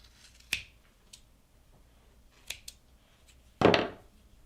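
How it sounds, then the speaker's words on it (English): Scissors snipping through yarn loops to release a shaggy pom-pom at a kids' craft session: a few sharp, isolated clicks, then a louder rustling snip near the end, close by with no talking. "I'll slide my scissors into those loops and create my shaggy pom-pom."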